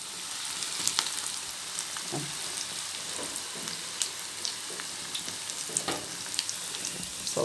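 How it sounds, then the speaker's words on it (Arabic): Samosas fry in hot oil with a constant close sizzle and scattered small pops and crackles, with no voices over it. "السمبوسه ما بتتحملش خالص في الزيت، على طول كده بتتحمر ونطلعها"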